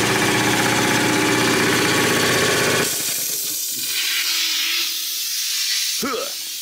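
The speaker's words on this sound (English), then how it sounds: "The compressor is so loud over there." A loud air compressor runs in a garage, a dense mechanical drone with hiss for about three seconds before it cuts off. A quieter low hum and some faint clatter follow.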